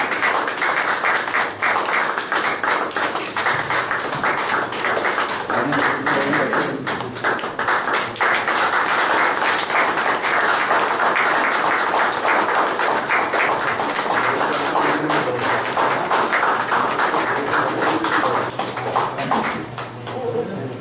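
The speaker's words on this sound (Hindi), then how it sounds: "तालियों के दरमियान" Audience at a book release event breaks into dense, steady applause, many hands clapping continuously at close range for about twenty seconds before it tapers off.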